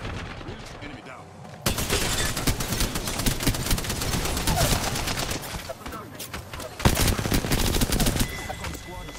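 Rapid bursts of automatic gunfire from an enemy squad in Apex Legends crackle loudly after a quiet opening, continuing in dense volleys with a sharp spike near the end.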